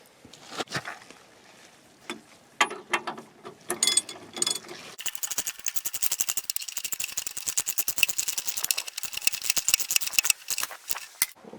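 A ratchet tightens excavator track roller bolts. Irregular clicking and rattling come first, then a long run of rapid, steady ratchet clicks close by, with no talking.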